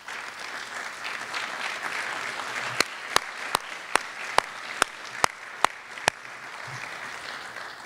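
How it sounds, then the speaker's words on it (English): An awards-show audience applauds alumni award recipients with steady crowd clapping, while a run of about nine sharp, evenly spaced louder claps stands out near the front midway through. "would you please stand up and let us recognize you with applause."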